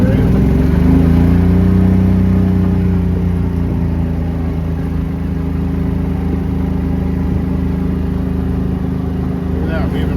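A Club Car gas golf cart, an Onward or Precedent fitted with a high-speed differential gear, accelerates up close. The loud engine drone climbs in pitch, then settles into a steady cruising hum with no voices.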